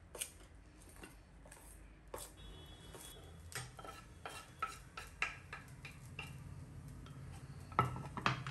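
A spoon stirring fried paneer and coriander into rice in a pot, producing quiet irregular clinks and scrapes against the metal, close by with a soft background hum.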